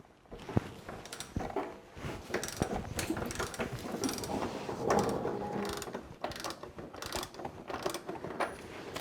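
A ratchet working a 27 mm castle nut loose on a KLR650 motorcycle during chain and sprocket replacement: repeated close clicking and metallic mechanism clatter in uneven bursts, with no talking.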